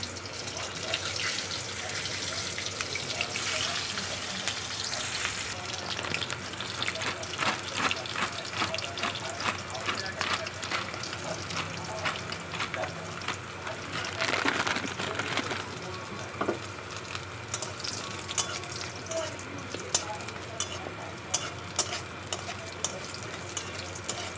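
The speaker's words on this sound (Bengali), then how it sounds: "এই বড়িটা একটু ভেজে তুলে রাখলাম" Bori, small lentil dumplings, fry in a pan with a faint, steady sizzle and occasional stirring clinks, with a quiet voice speaking now and then.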